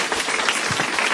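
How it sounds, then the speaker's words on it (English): An audience at a public talk claps briefly and steadily in a dense burst of applause that fills the room. "give her a big clap for that"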